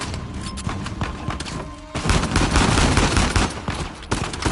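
Turret machine gun in Uncharted 4: A Thief's End pounding out rapid sustained bursts, loud and close, with a brief lull before a heavier stretch of continuous fire and a few scattered impacts.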